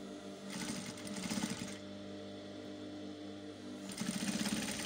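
A sewing machine back stitching a seam on a jumpsuit, a steady mechanical whir with faster rattling bursts at the start and end, close and moderately quiet.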